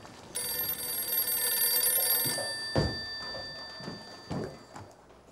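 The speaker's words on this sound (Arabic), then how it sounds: "وأنا هرد على التليفون لو المعلم اندهلي" A telephone bell rings in one steady, bright burst of about two seconds, then stops, followed by a few soft knocks and thumps in a quiet room.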